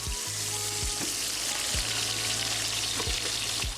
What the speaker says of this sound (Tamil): இப்போ 600 கிராம் வெங்காயம் போடுறோம்.